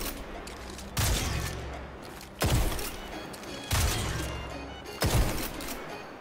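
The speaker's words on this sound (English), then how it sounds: "Here is what it looks like to fire and swapping to the other shotgun without the glitch." Four heavy shotgun blasts in a video game spaced over about six seconds, each a loud broadband boom with a decaying tail, separated by brief gaps where the weapon is swapped.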